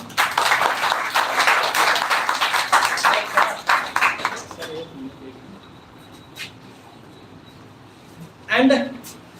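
An indoor audience claps for a mentor, a dense burst of applause lasting a few seconds, then fading to quiet room tone with a brief noise near the end.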